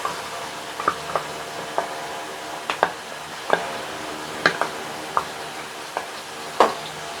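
A paste of yogurt and onion fries in a pan while being stirred for a Lahori white chana dish, giving a soft steady sizzle broken by scattered sharp crackles and spatters.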